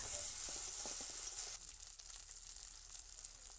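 Chilli, cumin, coriander, ginger and garlic pastes sizzle in hot oil for an aar fish curry, a steady close hiss with a few soft stirring scrapes that settle into quieter frying.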